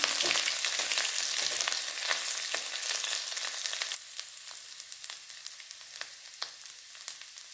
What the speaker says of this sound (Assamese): দি এনেদৰে আদা নহৰু কেঁচা গোন্ধটো যোৱালৈকে ভাজি ল'ম